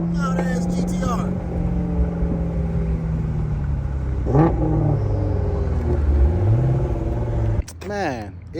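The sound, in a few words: Nissan GTR engine revving loudly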